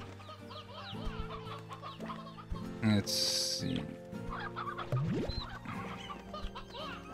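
Chickens clucking in the video game Slime Rancher 2, repeated short clucks over game music, with a brief burst of other game noise partway through and a voice speaking briefly.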